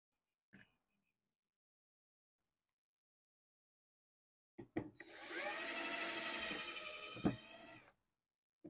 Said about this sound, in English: the drill is mainly for keeping the wood from splitting on the grain